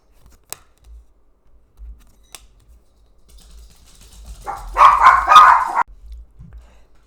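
Pet dog barking indoors in a house shared with other dogs and cats: a short burst of several close, loud barks after a few quiet seconds with faint knocks and taps.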